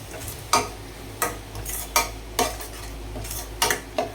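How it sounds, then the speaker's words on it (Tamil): Coarsely ground tomatoes sautéing in a pan for mutton curry, a soft background sizzle punctuated by sharp metallic spoon scrapes and clinks against the pan roughly every half second to second, with a low steady hum beneath. "இப்போ தக்காளி நல்லா வதங்கட்டும்"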